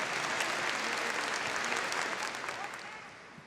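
Congregation applause during a Catholic prayer event, a thick, continuous clapping that stays steady then tapers slightly toward the end, moderately distant and unaccompanied by speech.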